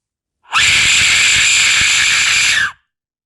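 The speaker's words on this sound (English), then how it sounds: "So yeah, Aztec whistle." A replica Aztec death whistle blown once in a single sustained, loud, piercing shriek that holds steady for about two seconds, harsh and scream-like, then cuts off abruptly.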